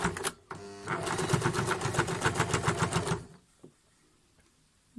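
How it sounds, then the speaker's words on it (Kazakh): A sewing machine stitches patchwork pieces together in a fast, even run of needle strokes lasting a few seconds, close and loud, then stops into near silence with a faint click or two. "Мінекей дәл біріктіріп тігіп шығамыз, қыздар."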